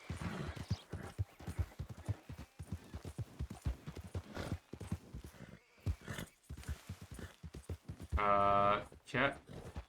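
Horse hooves clip-clop in Red Dead Redemption 2, a steady walking rhythm heard under nearly continuous talk, with a louder burst near the end.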